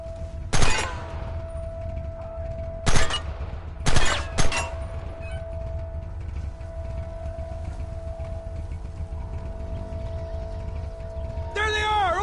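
Gunfire in a Red Dead Redemption shootout: a single loud crack, a short pause, then a close cluster of sharp shots over a steady droning background, ending with a rising whine.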